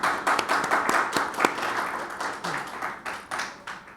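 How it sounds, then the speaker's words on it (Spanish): Audience applause welcoming speaker Alejandra Betanzo at a talk, a steady wash of many hands clapping with a few sharp individual claps, moderately loud and continuous throughout without speech. "Un fuerte aplauso, por favor, para Alejandra Betanzo."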